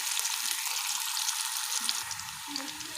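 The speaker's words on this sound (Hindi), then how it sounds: "ऑयल गर्म होने के लिए रख दिया हमने। प्याज डाल दिया हमने। अच्छी तरह ब्राउन होने तक वेट करते हैं अब प्याज का।" Onions fry in hot oil until browned, producing a continuous soft sizzling hiss with a faint low clatter near the end.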